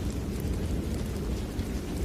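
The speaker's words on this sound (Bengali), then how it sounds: "সঙ্গে ঝোড়ো হাওয়া আর টিপটিপ বৃষ্টি।" Stormy wind with light drizzle on a rural village road, a steady, fairly faint wash of rain noise and low gusting rumble, unbroken and with no voices.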